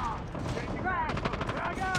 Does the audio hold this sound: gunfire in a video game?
yes